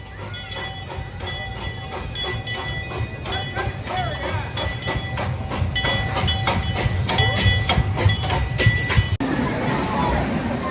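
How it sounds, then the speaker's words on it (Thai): A small amusement park rail train in the United States rumbles and clacks along its track with rhythmic metallic clinks, while voices chatter faintly in the background. "อันนี้จะเป็นแนวรถไฟรางนะคะ"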